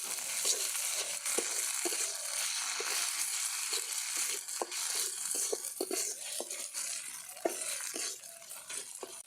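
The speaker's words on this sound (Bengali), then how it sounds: "আদা রসুন বাটা দিয়ে আর একটু আমি ভেজে নেব।" Ginger garlic paste fries in a pan under a constant sizzle, broken by repeated scrapes and clinks of a spoon stirring against the pan at an uneven, close-up rhythm, with no voices.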